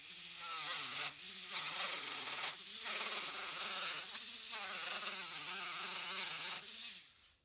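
A handheld carving sander works over pine and driftwood, giving a buzzing, rising and falling whine in several bursts with brief pauses between, close and alone.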